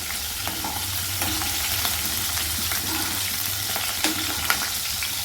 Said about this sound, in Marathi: त्या मिरचीला चांगलं तेलामध्ये परतून घ्यायचं आहे